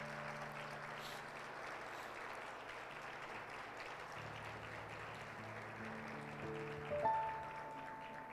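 Congregation applause at a church anniversary service, a faint, steady wash of clapping hands under sustained organ or keyboard chords, swelling slightly near the end.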